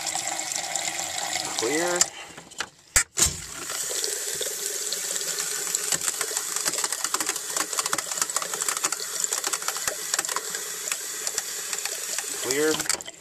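Water runs from an RV bathroom sink faucet during dewinterizing in Alaska, a steady splashing stream with brief sputters and a short gap near the start as air clears the lines, while a person speaks briefly.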